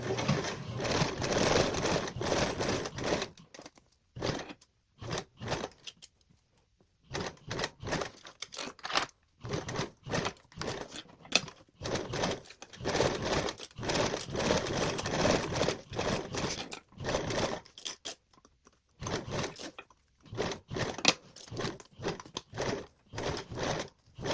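A sewing machine stitches zipper tape onto a tote bag lining, running in bursts of rapid mechanical whirring. Short silent pauses break up the runs.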